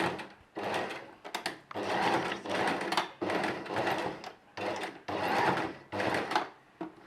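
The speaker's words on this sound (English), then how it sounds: "we're going to sew the edge" A sewing machine runs in repeated bursts of about half a second to a second, stitching along the folded edge of a dress on a straight stitch, close and clear, with short pauses between runs.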